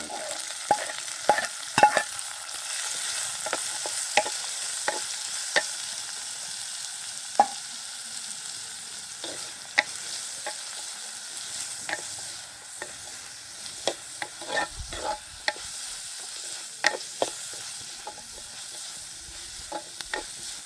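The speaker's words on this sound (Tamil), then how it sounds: "எடுத்து வச்சுருக்கிற வெங்காயம் செத்தல் கருவேப்பிலை எல்லாத்தையுமே சேர்த்துக்கொள்கிறோம். இது கொஞ்சம் நேரம் வதங்கட்டும்." Onions, dried chillies and curry leaves sautéing in a pan: a continuous soft sizzle with frequent light crackles and spatula taps against the pan, close and steady throughout.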